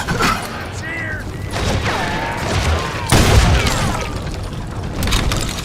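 Gunfire and explosions in the Western shooter game Call of Juarez Gunslinger, loud bursts of shots and booms over a steady rumble, with a strong blast about halfway through.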